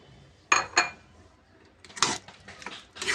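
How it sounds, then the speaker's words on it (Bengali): Potatoes tipped into a pan of spiced beef tripe make two sharp clattering hits, followed by softer scraping and clinking of a utensil against the cookware, with no talking. "এখন আমি আলুটা দিয়ে দিচ্ছি"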